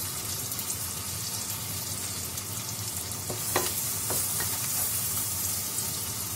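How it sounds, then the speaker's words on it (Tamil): Onions, garlic and green chili sautéing in oil for crab curry, a continuous close sizzle with a few sharp spatula clicks and scrapes. "இது கொஞ்ச நேரம் நல்லா வதங்கட்டும்"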